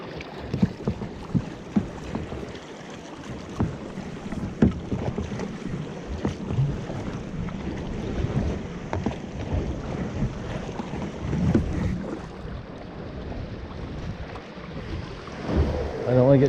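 Waves sloshing and slapping under small rock caves at Pictured Rocks near Munising, Michigan, heard from a small boat on the water, irregular low splashes with gusty wind buffeting the microphone and occasional voices nearby.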